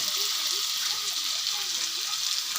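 Garlic and onion paste frying in a pan as it is stirred, a steady hissing sizzle throughout with someone talking over it.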